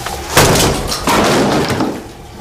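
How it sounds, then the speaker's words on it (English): A dynamic hammer, the manual battering ram used by counter-terrorist troops, strikes a door during a forced entry, giving a loud close slam followed by a second heavy thud and then the rattle of the door giving way. "we're going to use the dynamic hammer."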